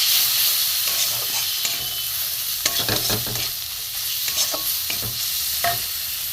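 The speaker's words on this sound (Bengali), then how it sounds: "মশলাটা আমি একটু কষিয়ে নেবো" Spices with chilli powder and garam masala sizzle in a hot pan while being stirred, a steady hiss broken by scraping and clicking strokes of a spatula.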